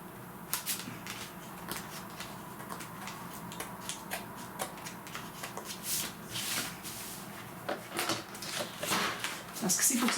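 Scissors snip through paper for a scrapbook pop-up page, making many quick, uneven clicks and crisp cuts close by, with a low murmur underneath.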